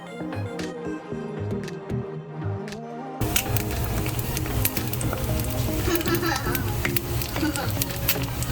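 Eggs sizzling in a hot pan for a New York-style bacon, egg and cheese sandwich, a steady close crackling fry that starts quiet and turns loud and dense partway through, with music playing underneath.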